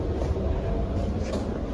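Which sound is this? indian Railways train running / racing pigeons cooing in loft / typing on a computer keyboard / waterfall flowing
indian Railways train running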